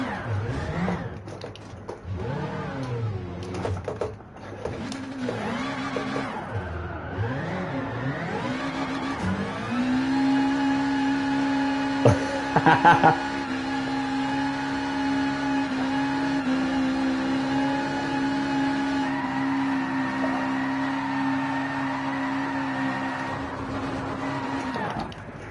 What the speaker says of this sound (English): I'm just going to do some quick burnouts as well